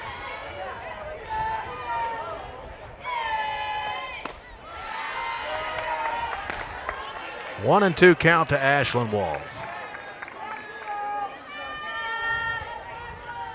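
A crowd at a women's college softball game between Kentucky and Texas A&M breaks into a short burst of loud cheering in the middle, while a commentator speaks over quieter stadium murmur before and after.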